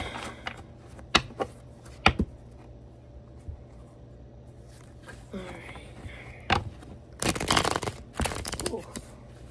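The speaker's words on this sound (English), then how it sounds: "I don't know what happened with that shuffle." Tarot cards being shuffled, giving bursts of riffling and slapping clatter at about 1, 2, 6.5 and 7.5–8.5 seconds over a quiet room hum.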